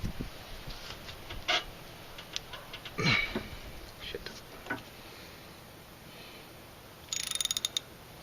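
A ratchet socket wrench works on the sway bar bushing bolts of a Mazda 626, giving quiet scattered clicks and scrapes, then a fast run of ratcheting clicks near the end.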